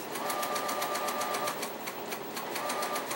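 A sewing machine runs steadily while stitching quilt patches for a giant dahlia quilt, giving a close, continuous rapid needle rattle with a faint whine through the whole stretch.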